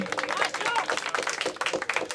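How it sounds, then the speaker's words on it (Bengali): An audience claps at the prize giving for a cycling trail race in Dhaka. The applause is dense and continuous, with voices mixed in under the clapping. "সবাই হাততালি দেয়।"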